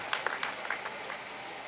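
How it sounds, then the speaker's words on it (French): Scattered applause from a crowd at a farmers' protest rally in Loiret, France. Faint, sparse claps come through in the first second, then trail off into background murmur. "Je voudrais qu'on les applaudisse."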